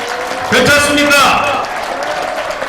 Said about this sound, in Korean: 여러분 저 되게 미적지근한 박수를 원하지 않습니다.